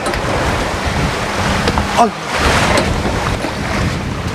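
Rough sea waves surge and wash around a fishing boat out on the water, a constant loud roar of water with wind buffeting the microphone throughout.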